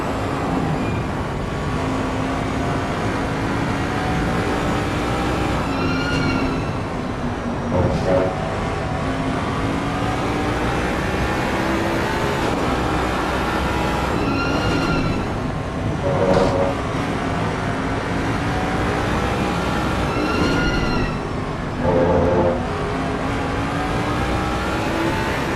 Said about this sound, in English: I'm just gonna shut up and let you listen to these cars.